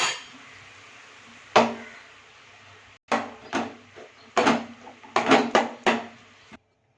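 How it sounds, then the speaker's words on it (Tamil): Cooked rice being stirred into an amla (gooseberry) mixture in a pot, with several sharp spoon-on-metal knocks and scrapes in irregular bursts, fairly close and with no talking. "இப்போ நம்ம அடுப்பை ஆஃப் பண்ணிவிட்டு சோத்தை எடுத்து கொட்டி இதில் கிளறலாம்."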